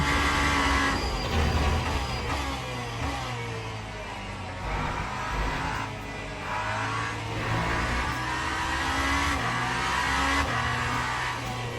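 A Genesis GMR-001 hypercar's V8 engine in the racing game Le Mans Ultimate roars and revs steadily, rising and falling in pitch, with a bright, slightly thin tone and no voices.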